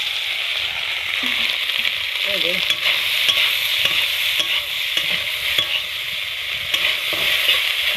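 Steady, loud sizzling of soya chunks frying in hot oil, with occasional stirring scrapes mixed in; no voices.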